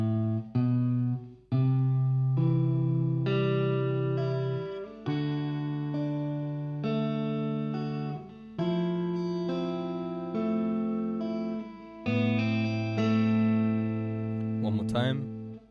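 Fingerpicked guitar plays a song intro, a flowing sequence of sustained arpeggiated chords, clear and close-miked, played alone without speech.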